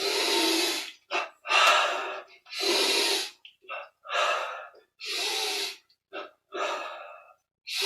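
Repeated deep breaths during a yoga breathing exercise, loud and close, each inhale and exhale a long rushing sweep with short pauses between, roughly a dozen breaths in steady rhythm.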